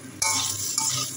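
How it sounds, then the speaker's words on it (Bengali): Soya chunks fry in oil left from frying potatoes in a home kitchen pan, giving a steady close sizzle with stirring scrapes that begin abruptly and swell again midway. "এখন ওই তেলেই আমি সয়াবিনগুলো ভেজে নেব"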